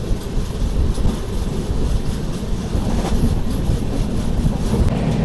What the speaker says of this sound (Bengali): রানিগঞ্জ থেকে অনেক ট্রেন বেরিয়ে যাচ্ছে